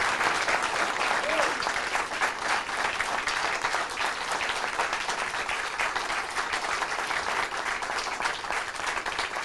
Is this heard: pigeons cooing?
no